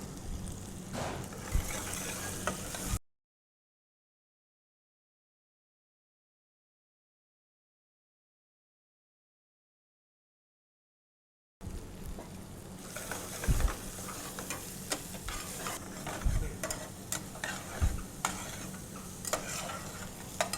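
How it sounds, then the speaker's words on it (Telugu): Onions with green chili, garlic and ginger frying and being stirred in a pan for foxtail millet upma, close sizzling with scraping stirs, broken by a long stretch of complete silence in the middle. "కొద్దిగా దోరగా వేయించిన ఉల్లిపాయలు"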